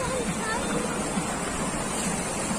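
Steady broadband rush of water pouring like a small waterfall beneath a bridge near an old fort, continuous and fairly loud throughout with no breaks.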